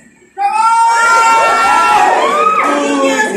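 A sudden burst of children shouting and cheering together at a clown show during a graduation party, high-pitched whoops rising after a brief quiet start, loud and close.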